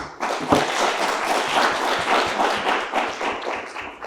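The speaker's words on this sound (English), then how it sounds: "Let's have a round of applause for our 3 candidates." Audience applause for three student government debate candidates at a university event, steady moderate clapping from a crowd that holds throughout.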